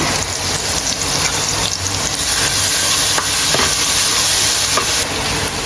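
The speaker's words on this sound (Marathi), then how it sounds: "तेल टाकून घेतलाय, एकदम ठेचलेलं लसूण टाकलाय, अद्रक लसूण मिरची कोथिंबीरची पेस्ट टाकली ह्याच्यामध्ये" Garlic, ginger, green chili and coriander paste frying in hot oil, a loud, steady, dense sizzle with faint stirring scrapes, close and continuous with no talking.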